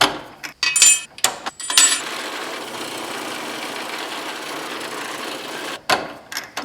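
A drill bit that is ground wrong bores into metal on a knife build, giving a steady, loud grinding whir after a few short clinks and bursts of handling noise, then a sudden stop and one final clunk.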